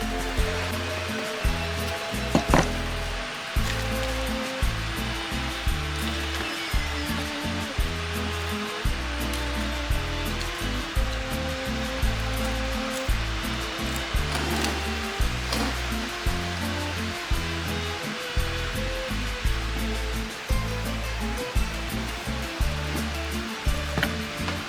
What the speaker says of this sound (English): he brought out a fan to bring some much-needed air